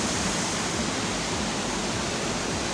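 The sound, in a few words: waterfall at Kokarai Neshkapar, Swat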